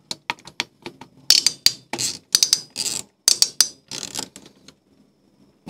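Screws being tightened into a desktop PC during a cleanup, giving a scattered run of sharp clicks, ratcheting ticks and small metallic taps, close and fairly loud, with no talking.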